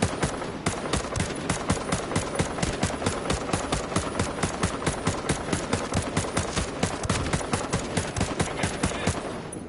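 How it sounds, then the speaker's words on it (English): Sustained machine gun fire in a video game, a rapid, evenly spaced stream of loud shots that runs nearly unbroken for the whole stretch, close and dominant, with no talking over it. "I can't hear you over these loud ass shots I'm firing right now"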